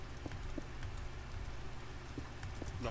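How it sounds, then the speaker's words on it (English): Steady rain in Minecraft, a soft continuous patter with scattered drop ticks throughout, no one speaking. "I know, but it's raining."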